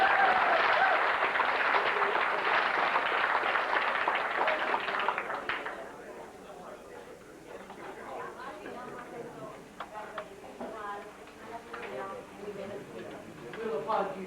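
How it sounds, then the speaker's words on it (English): Applause from a crowd after a game fills the opening seconds loud and dense, then dies away into quieter room chatter and scattered sounds. "We'll applaud you too."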